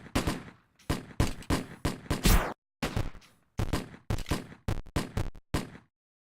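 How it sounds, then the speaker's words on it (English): Rapid bursts of enemy gunfire from the video game Alphaman, loud and close, firing in quick separate volleys with short gaps, stopping near the end; no talk over it. "Oh, that guy's shooting through the walls."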